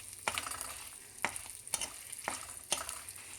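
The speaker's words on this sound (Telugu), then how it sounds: "ఇలా మీడియం ఫ్లేమ్లో పెట్టి దూరగా వేయించుకోండి" Spices for gongura chutney, including whole coriander seeds and salt, fried and stirred in a pan over a medium flame, the spoon striking the pan in sharp, evenly spaced scrapes over a faint hiss.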